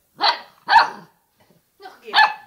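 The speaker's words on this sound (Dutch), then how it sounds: "Goed zo, je kunt ook blaffen." A puppy barks four times in two quick pairs, loud and close, with short silences between the barks and no talking over them.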